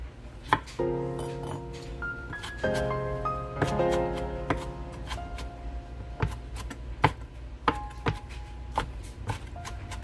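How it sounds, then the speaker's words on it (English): Vegetables being chopped into small pieces on a cutting board for fresh salsa, a series of sharp knife taps at an uneven pace over a background of sustained tones, close and clear with no talking. "you always can chop like small little piece like that"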